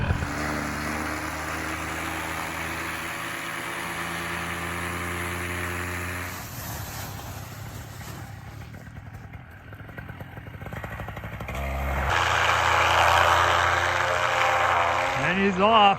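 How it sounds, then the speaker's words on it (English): A Scout light aircraft engine warming up on the ground in calm Canadian conditions: a steady, throaty propeller-engine drone that dips, then swells louder and rougher toward the end. "And warming up the Scout right now."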